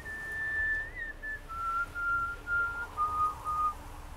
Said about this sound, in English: Oh, I hate whistling in the ears.